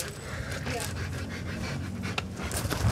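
Large dog panting heavily and close, a fast rough breathy rhythm throughout, with people talking nearby.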